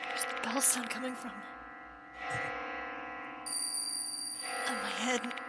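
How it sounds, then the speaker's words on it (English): A bell rings amid eerie music in the horror video game Death Mark II, with tonal ringing bursts near the start and end over a steady sustained musical backdrop. "Where's the bell sound coming from?"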